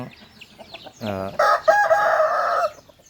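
A mixed-breed gamecock rooster, a Chiang Phanat and Burmese fighting-cock cross, crows once up close, loud and drawn out, after a few quiet soft sounds.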